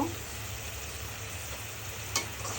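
Turmeric and spices fry with shrimp and vegetables in a pan, giving a steady soft sizzle with a single sharp stirring scrape near the end.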